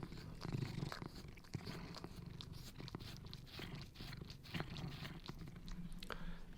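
A domestic cat purring close by, a steady low rumble that continues throughout, with occasional soft chewing or licking noises layered on top.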